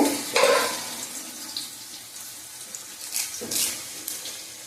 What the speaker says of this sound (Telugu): ఉల్లిపాయలు అయితే వేగుతున్నాయండి